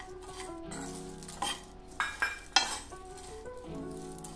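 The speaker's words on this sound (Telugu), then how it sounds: "మసాలా దినుసులు బాగా వేగాయి, మంచి సువాసన వస్తుంది।" A spatula stirs and scrapes chai masala spices and pounded dry ginger roasting in a pan, with soft sizzling and several sharp metallic scrapes and clinks, close and fairly quiet.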